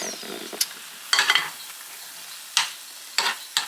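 A spoon stirs thick pumpkin puree heating in a pan on the stovetop, giving about five short scraping, squelching bursts with quiet gaps between them. The sound is close and there is no talk.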